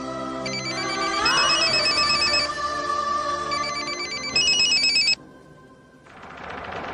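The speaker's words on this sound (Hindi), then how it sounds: "मानव को फोन नहीं कर सकती ना, इसलिए तुझे फोन किया।" An electronic ringtone plays loudly and close for an incoming call in a Hindi television drama, a repeating melodic chime pattern that shifts partway through and then cuts off, leaving quieter background sound.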